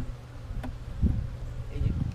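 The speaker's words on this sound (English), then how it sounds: "And those all the bees are coming up." Dense, steady hum of honey bees buzzing close by in an opened beehive as frames are lifted, a continuous low drone with swelling bursts.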